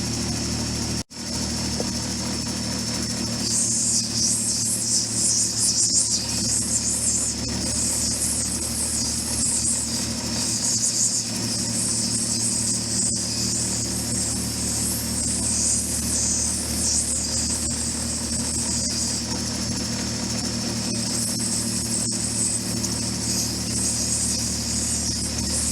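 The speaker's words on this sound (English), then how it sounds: "I'm going to start rounding it off a little bit on the 220 wheel" A 220 grit lapidary wheel grinds and rounds an Apache tear stone, a steady motor hum under a continuous hissing, scraping wash that swells for long stretches as the stone is pressed and moved on the wheel.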